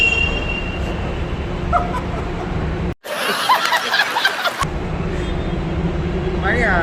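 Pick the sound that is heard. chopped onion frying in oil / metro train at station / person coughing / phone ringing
metro train at station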